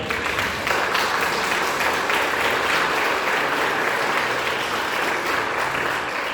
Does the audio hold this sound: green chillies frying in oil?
no